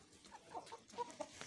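Domestic chickens and roosters clucking in a farmyard at feeding time: a handful of short, quiet clucks in an uneven rhythm over soft background noise, with no talking.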